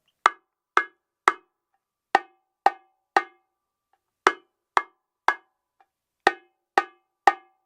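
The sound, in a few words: bongo drum tone, high-pitched, short and dry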